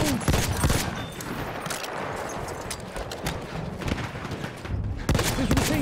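Enemy machine gun fire in Battlefield 1 rattles in dense repeated bursts amid battlefield noise. It is loud and continuous, and voices shout briefly at the start and end.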